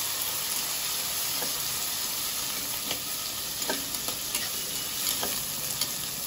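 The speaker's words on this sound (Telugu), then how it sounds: "ఈ గింజలు కొంచెం నూనెలో వేగిన పేల్తాయి కొంచెం జాగ్రత్తగా దూరంగా ఉండండి" Pigeon pea seeds fry in hot oil for a biryani, making a dense, steady sizzle with scattered sharp pops and crackles throughout.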